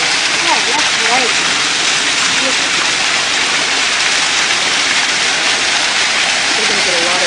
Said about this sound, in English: We're going to get a lot of waterfall.